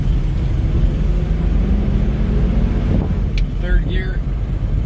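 A 1959 Cadillac drives and shifts through its gears, heard as a loud, steady low engine drone with wind rumble, close up and continuous.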